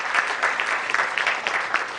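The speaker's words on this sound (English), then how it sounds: "please give Hitesh a big round of applause" An audience at a CPE study circle session in Borivali Central gives a round of applause, with brisk, continuous clapping that stays fairly even and moderately loud for its whole length, with no talking over it.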